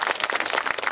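Audience at a Busan political gathering applauding, a dense continuous patter of many hands clapping together, steady and fairly loud for a brief moment with no speech over it.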